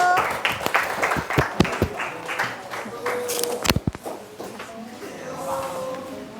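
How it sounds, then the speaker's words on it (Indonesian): Classroom students clapping for a fellow student during a math lesson, a short burst of scattered, uneven claps up close that fades into room noise and murmuring voices. "tepuk tangan untuk Pedro"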